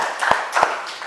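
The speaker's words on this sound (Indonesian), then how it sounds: "Tepuk tangan buat kelompoknya Dini ya." A school class claps for a student group, heard as a couple of sharp, close hand claps spaced about a third of a second apart over a faint room hum.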